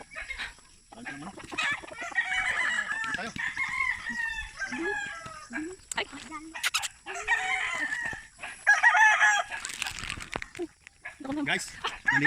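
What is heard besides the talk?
chickens and roosters crowing and clucking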